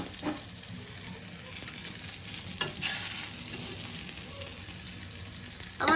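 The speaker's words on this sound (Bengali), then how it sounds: "বেগুনটা ভাজা হয়ে গেছে আপনি" Brinjal (eggplant) frying in an iron kadai, a low steady sizzle with occasional stirring scrapes and a few sharper clatters; no talking.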